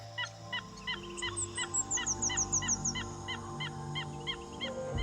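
A bird high in the Borneo forest canopy repeats a rhythmic series of honking calls, about a dozen evenly spaced notes at moderate distance, with a faint high twittering and a low steady hum behind.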